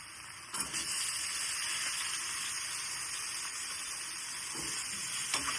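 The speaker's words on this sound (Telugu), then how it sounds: "పోపు వేగంగానే ఈ గుమ్మడికాయ ముక్కలు వేసేయాలి" Pumpkin pieces frying in a sizzling tempering of spices, a steady bright hiss of oil with a couple of faint clatters from the pan.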